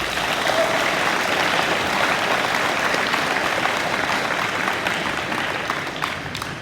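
A school awards-day audience applauds students in a dense, sustained wash of clapping that fills the room at full volume and begins to taper off near the end.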